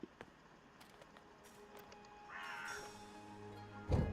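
A crow in the video game Dreamfall Chapters caws twice, a harsh raspy call rising over quiet game ambience, followed by a louder thump.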